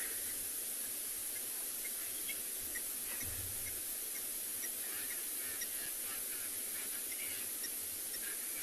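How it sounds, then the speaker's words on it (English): A blacksmith lapwing on a South African safari calls while chasing small birds; scattered sharp calls come and go over a steady wash of outdoor noise, with no one speaking. "Look at that blacksmith lapwing chasing all the little birds around,"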